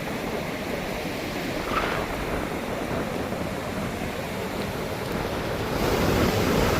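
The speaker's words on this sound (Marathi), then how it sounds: "बघा लाटा पण भरपूर आहेत मोठमोठ्या लाटा आहेत पाहू शकता तुम्ही" Big ocean waves roll onto Aare beach in Ratnagiri, a steady broadband wash of surf with wind buffeting the microphone, swelling slightly louder toward the end, no voices.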